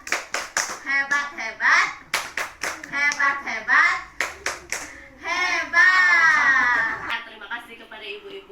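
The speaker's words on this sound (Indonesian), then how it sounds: "1, 2, 3 tepuk hebat." A group of mothers at a family development session doing a counted rhythmic clapping cheer, sharp hand claps in a quick pattern mixed with a leader's voice and a child's cries and babble nearby.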